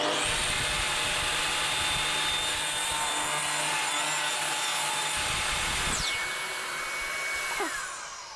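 Saw blade cutting a kerf into multiplex plywood to bend it into a round corner: a steady, loud, close whining cut with gritty wood noise, tapering and pitching down as the cut finishes near the end, no talk.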